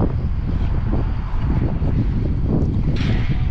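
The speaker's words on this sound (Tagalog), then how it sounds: "medyo mahangin lang dito ngayon." Strong wind buffets the microphone on the seaside Al-Khobar Corniche in Saudi Arabia, a loud, continuous low rumbling roar with gusty fluctuations and no voices.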